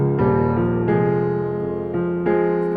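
Sampled Yamaha grand piano in an EXS sampler, with a harsh, chiming top end: sustained chords played alone, changing at a steady, unhurried pace, loud and close.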